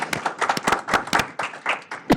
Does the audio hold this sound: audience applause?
yes